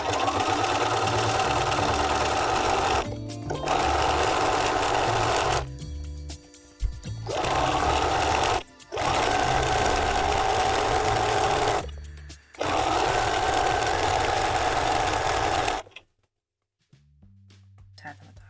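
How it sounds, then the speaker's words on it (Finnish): A sewing machine with a dull needle stitches through thick fabric while reupholstering a hanging chair, whirring in long runs broken by brief pauses. A voice talks throughout, and the machine stops near the end. "kun kuulostaisi siltä, että ompelukone neula olisi vähän tylsän oloinen"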